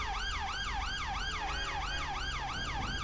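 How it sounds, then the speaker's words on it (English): A police car siren wails in GTA 5 with the UK LSPDFR police mod, a fast, steady rising-and-falling electronic tone sounding loud and continuous over a low engine hum. "And I'm gonna turn this siren off."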